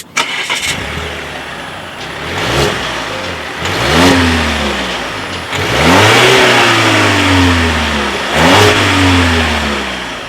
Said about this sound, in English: here is what that exhaust clip sounds like.